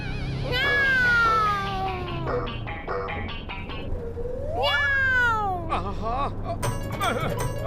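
A cartoon cat meows in long, drawn-out, wavering cries, several in a row, loud and up front over a cartoon soundtrack with other voiced sounds in between.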